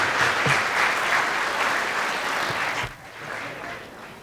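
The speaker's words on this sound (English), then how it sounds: "So a round of applause." Guests at an academic awards dinner break into sustained applause, a dense roomful of clapping that holds steady and then thins out toward the end.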